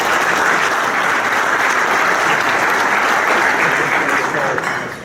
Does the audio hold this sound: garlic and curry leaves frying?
no